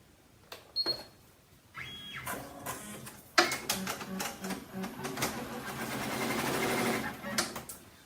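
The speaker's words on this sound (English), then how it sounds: "we're going to sew the placement stitch" An embroidery machine sews the placement stitch for an appliqué on a scrap of fabric with stabilizer, using heat transfer vinyl. A few short clicks lead into a dense, steady mechanical whirring that runs close and fairly loud to the end.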